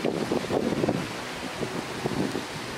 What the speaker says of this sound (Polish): Potok wody, to potok wody.